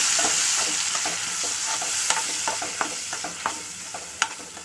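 Spoon stirring a sizzling tempering in a pan with pickle and cucumber pieces added, for pulihora; steady close frying hiss with repeated scraping clinks of the utensil, no voices.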